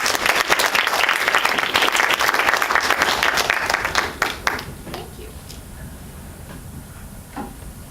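Enthusiastic audience applause welcoming speaker Chanya Elakkad at a First Friday speaker event: loud, dense clapping for about four seconds, then quickly thinning to a few scattered claps.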